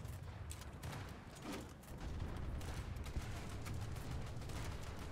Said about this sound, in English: There's a submarine chaser shooting at me.